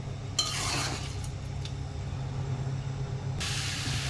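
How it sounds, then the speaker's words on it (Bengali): Chicken khichuri frying in a pot, a steady loud hiss and sizzle throughout with brief clinks of a utensil against the pot, no voices. "আমি এটাকে ভালো করে কষিয়ে নিয়ে পর্যাপ্ত পরিমাণে জল দিব।"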